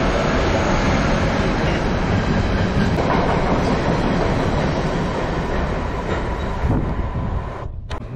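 A cargo train rolls through a station in Denmark, a loud, close, continuous rumble and clatter of wagon wheels on rails that holds steady and then thins out near the end.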